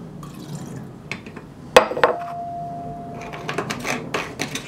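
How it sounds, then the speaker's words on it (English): Acetone poured back into a container after smoothing PLA 3D prints, heard as a thin splash and a trickle of dripping liquid, faint and close, with a few small clicks around it. "I'm going to pour the acetone back in the container."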